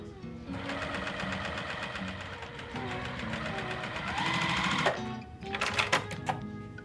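A sewing machine stitches pinwheel quilt pieces in a steady, rapid mechanical whir that runs close and continuous, then breaks into a few short bursts near the end.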